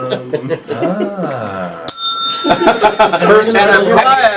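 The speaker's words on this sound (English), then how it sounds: "Anytime something stupid comes out of Glenn's mouth, feel free to ring the bell." A bright bicycle-style bell rings repeatedly on a radio show right after a silly remark, sounding loud and close over continuous talk and laughter.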